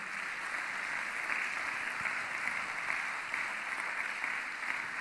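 A church congregation claps steadily, a dense and sustained round of applause filling the whole stretch without pause.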